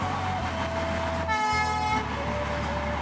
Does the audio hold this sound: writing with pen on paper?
no